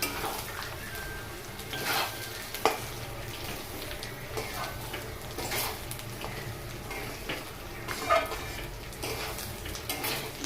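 Rice for basanti pulao is fried and stirred in a pan: a soft, steady sizzle with repeated scraping strokes of a spoon against the metal, a few louder knocks, and no talking.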